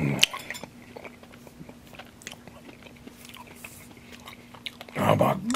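Someone bites into a stuffed bell pepper up close, with soft crunching and wet chewing through the middle, while talk breaks in at the start and end.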